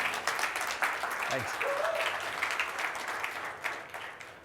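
Audience applause for a presenter at a software conference, a steady wash of clapping running through the whole stretch, with a brief spoken thanks and voice over it.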